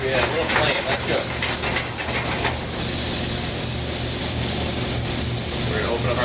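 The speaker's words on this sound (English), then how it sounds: "Wine deglaze a little bit, move your chicken around." A pan of chicken sizzles and hisses steadily as wine is poured in to deglaze it, a broad continuous steamy hiss at close range with some background talk.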